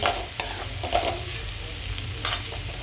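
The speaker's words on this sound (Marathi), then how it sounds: "इकडे भेंडी भेंडीची भाजी टाकलेली आहे बनवते इकडे" Okra frying in a wok with a steady close sizzle, broken by a few sharp stirring scrapes.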